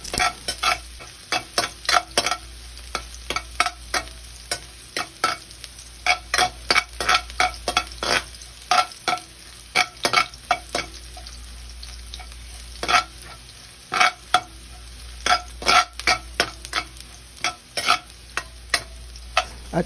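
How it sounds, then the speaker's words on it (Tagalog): Garlic sautéing and browning in a pan, a steady close sizzle broken by frequent quick scraping stirs of a spatula, with no voices. "At igisa natin ang bawang hanggang sa pumula ng bahagya."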